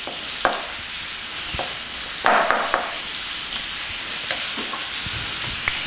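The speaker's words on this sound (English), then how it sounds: "So then mix it in with your butter." Garlic bread butter is worked and mixed in a bowl, giving soft scraping and stirring sounds with occasional small clicks of the utensil against the bowl, close and fairly quiet, with no talking.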